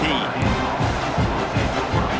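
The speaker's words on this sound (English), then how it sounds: "This crowd ready to make its presence known." Stadium crowd noise rumbling and swelling in EA Sports College Football 26 after a kickoff return, a dense continuous roar with rhythmic surges, loud and steady throughout.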